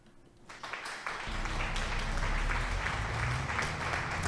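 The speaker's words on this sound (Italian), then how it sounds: "Un applauso alla nostra Alice." Applause for Alice, the first friend to join a multiplayer livestream of Farming 22, builds quickly after a quiet start and then holds as a steady, dense wash of clapping until the end.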